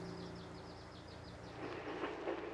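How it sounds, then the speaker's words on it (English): Amtrak Empire Builder passenger train running along its line near Glacier Park, a steady rumble of rolling cars with faint rhythmic clatter and a brief high tonal squeal, moderately near and continuous, with no talking. "Amtrak's Empire Builder follows the same rail line as nearly a century ago."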